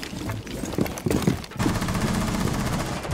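Gunfire in Rainbow Six Siege, a few sharp single shots followed by a rapid, even stream of automatic fire, loud and close.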